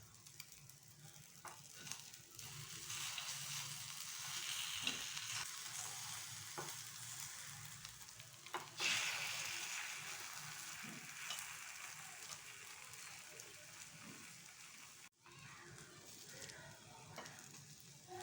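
Egg paniyaram sizzles and fries steadily in a pan, a continuous close crackle with a few brief clicks and scrapes along the way and a sudden short drop near the end.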